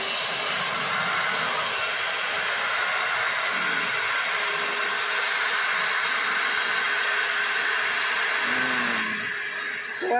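A compressed-air blower hisses continuously and loudly, blowing out parts during a DIY oil, ATF and coolant service on a 2012 Toyota Vios automatic, close by with no speech.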